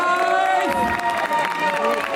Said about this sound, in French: Applaudissez-les, messieurs, dames.